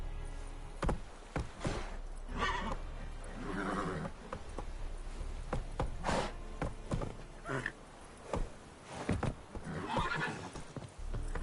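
Roach, the horse in The Witcher 3, gallops with rhythmic hoof clip-clops and occasional whinnies, joined by sharp game effects and rumbling ambience throughout.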